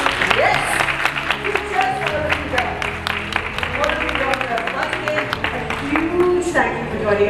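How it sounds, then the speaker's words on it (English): Event audience claps through a round of applause, sharp clap transients over a crowd with a voice and some cheering mixed in. "I'd like to begin this event, the proceedings, with a round of applause for all of you."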